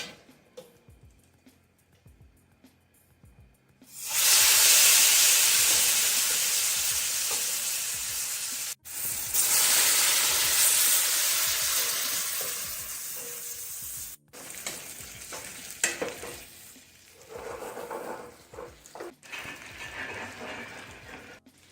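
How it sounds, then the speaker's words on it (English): Buckwheat and spelt vareniki dumplings fry in browned butter, giving a loud steady sizzle that swells in after a quiet start, breaks off briefly twice as the pan is stirred, and carries on with crackling and clatter, no voices. "low heat until the butter turns to nice and brown, nutty flavor"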